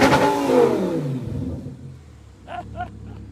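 An Audi R8 V10 blips its exhaust from idle, with a loud rev swelling and falling away at the start, a low rumbling idle after, then two short revs near the end.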